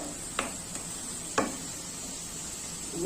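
Rui fish frying in a pan give a soft, steady sizzle, broken by two sharp clinks of a utensil against the pan, close and fairly quiet, with no voices.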